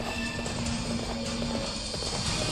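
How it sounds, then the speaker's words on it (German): Horse hooves gallop in the video game Hyrule Warriors, a rapid steady clip-clop rhythm, loud and close over continuous game background sound. "Ist doch noch ein Pferd. Er kommt schon angetrampelt."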